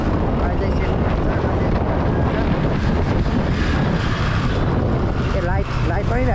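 Steady, loud wind buffeting the microphone while riding a scooter outdoors in traffic, a continuous broadband rush throughout with a voice talking briefly underneath near the end.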